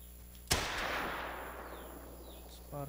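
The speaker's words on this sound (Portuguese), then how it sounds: "Disparo feito." A hunting rifle shot rings out in theHunter: Call of the Wild, set in the Silver Ridge Peaks reserve. The single loud crack comes with a long echoing tail that fades over about two seconds.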